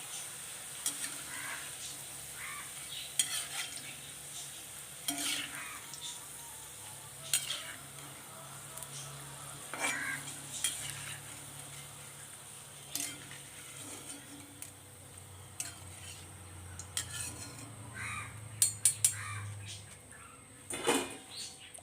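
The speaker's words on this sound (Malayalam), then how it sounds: "ഈ ഒരു പരുവത്തി വറുത്ത് കോരാം" Bitter gourd pieces frying in hot oil in a pan, with a low steady sizzle broken by repeated clinking stirs of a spoon or slotted ladle, close up and with no talk.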